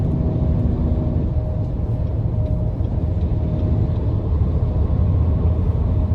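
A 2021 Buick Enclave Avenir cruising at 75 mph, heard from inside as a loud, steady, unbroken rumble of road and engine noise.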